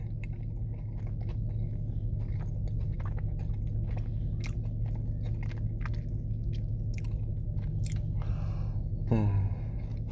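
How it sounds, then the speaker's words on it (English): Someone chews a Crumbl dirt cookie close to the mic, with steady crunchy, wet mastication through a low background hum and a brief louder mouth sound near the end. "we're gonna enjoy the dirt cookie"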